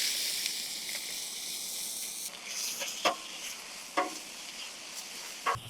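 Diced large onion sizzles in brisket tallow on a Blackstone griddle, a steady broad hiss punctuated by a few sharp spatula scrapes and stirs.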